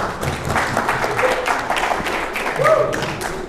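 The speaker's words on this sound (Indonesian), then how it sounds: "Tepuk tangan dulu." Audience applause at an Indonesian talk show, a dense wash of many hands clapping that fills the room steadily, with some crowd noise and a faint voice mixed in.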